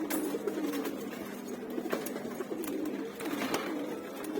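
Several pigeons coo steadily and overlap in a low, rolling chorus that carries on throughout, with scattered brief sharper sounds mixed in.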